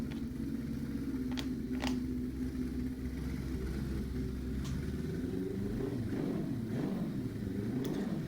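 A modified Suzuki motorcycle engine, its firing order converted to big-bang, idles steadily with a deep, uneven throbbing rumble. A few faint clicks and small revs rise above it.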